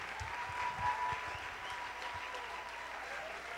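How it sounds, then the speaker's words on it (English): Audience applause follows an introduction of five citizens presenting a new ordinance at a public meeting, a steady wash of many hands clapping that fills the room evenly, with low thumps and faint murmur underneath. "let's have a round of applause."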